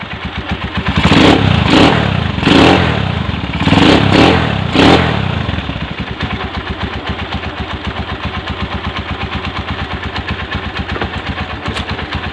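A Honda TMX 155 motorcycle engine runs close and loud, with a few throttle blips and revs early on before settling into a steady, rhythmic idle with a light mechanical clatter.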